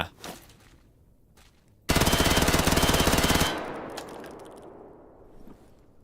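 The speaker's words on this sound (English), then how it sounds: "So if I shoot it a bit." A gun in STALKER GAMMA fires one sharp, loud burst of rapid automatic shots lasting about a second and a half, then echoes into a fading tail, with faint ambient noise before it.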